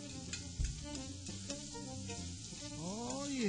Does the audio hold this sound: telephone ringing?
no